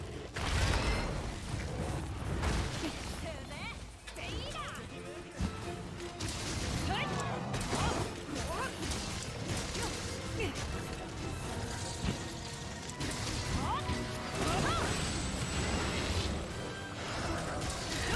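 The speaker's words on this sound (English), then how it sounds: "It's Bolt Reaver's signature attack." Bolt Reaver's signature attack in the Monster Hunter Sunbreak demo, a dense, continuous barrage of clanking, crashing and crackling game effects with mechanical grinding, loud and sustained throughout, with someone talking over it.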